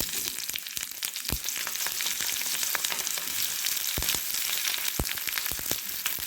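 Green chilies sizzle in hot oil, a steady close frying hiss broken by occasional sharp pops.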